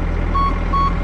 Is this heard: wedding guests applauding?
no